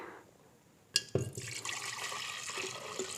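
Fermented banana cider vinegar is strained after a month in a glass jar, the liquid pouring and splashing steadily after a sharp knock, a continuous close trickle with no talk.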